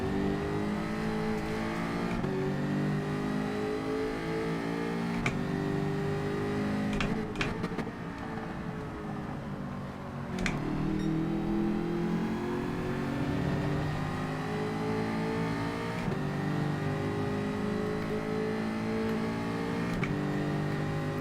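McLaren Group 4 race car in Gran Turismo 7 at Brands Hatch GP Circuit, its engine droning loudly and steadily with rising and falling revs, brief gear-change dips and a sharp shift crack midway.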